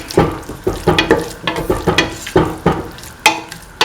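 Hands mix minced chicken for meatballs with chili flakes, pepper and garam masala, giving a close, moist squishing and slapping repeated at a steady quick pace, each stroke a short soft thud.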